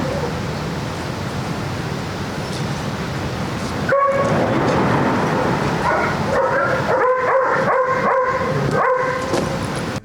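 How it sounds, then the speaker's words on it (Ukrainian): Detection dog barking and yipping in short bursts while searching bags for drugs, loud and close, with a steady noisy background and no talk. "Собака при осмотре всех сумок должна обозначить, найти, обнаружить и получить за это поощрение игрой с мячиком."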